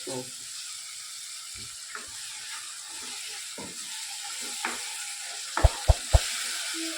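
Soft, steady sizzling of tomatoes frying in a pan for Kathiyawadi olo, with a few light clinks of a utensil near the end.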